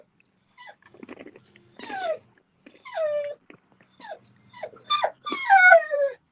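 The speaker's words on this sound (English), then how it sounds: "Who would know that a dog named Lucifer would have behavioral issues?" A dog whimpers and yips in several short, high, falling bursts, with brief pauses between them and quiet gaps, and no talking.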